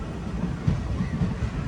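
Onboard a weekly express sleeper-class train on the Mangaluru to Puducherry line passing Kanhangad without stopping, a steady low rumble of wheels and carriage with soft rhythmic clacks, heard from inside the coach.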